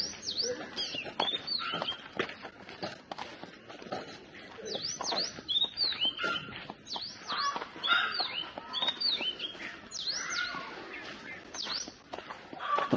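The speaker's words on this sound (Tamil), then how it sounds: "என்ன இது எந்த குருவி அது" Small birds chirp and tweet repeatedly in quick, bright calls throughout, close and fairly loud, with occasional footsteps and faint movement beneath and no talking.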